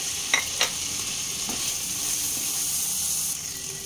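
Masala frying with chickpeas in a pan gives a steady close sizzle, with a couple of short scraping stirs near the start and a faint clink midway.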